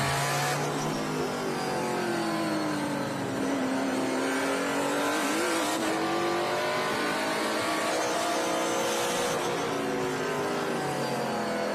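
A vintage race car engine screams at high revs from onboard at Mid-Ohio, pitch climbing and dropping through gear changes, loud and unbroken.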